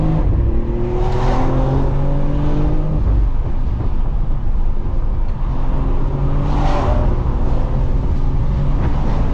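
A 2022 BMW X3 M Competition engine revving hard at full throttle, pitch climbing in two long accelerating pulls with a gear change between, loud and close from inside the vehicle.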